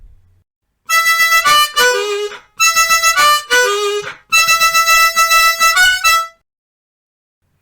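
Solo blues harmonica runs through the opening four bars of a blues tune, loud close phrases of repeated chordal notes with bent, sliding drops between them, separated by short pauses.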